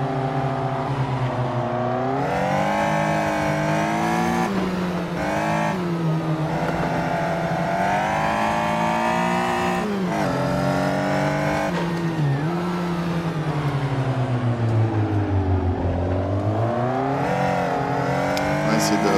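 A Caterham race car laps the circuit at Pôle Mécanique Alès, its engine loud and close throughout, revving up and down through the gears with pitch dropping on lifts and climbing under acceleration, and no talking.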